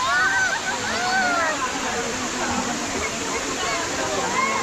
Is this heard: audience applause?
no